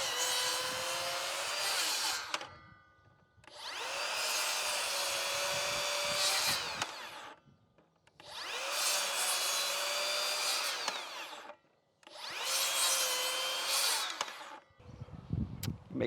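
A Makita 40V rear handle circular saw makes a 45-degree bevel cut through wood in four loud, close bursts of high whining, with short quiet gaps between them.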